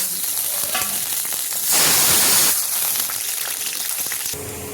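Cashews and raisins fry in mustard oil with a steady, close sizzle and bubbling crackle, swelling briefly louder midway, with no talking.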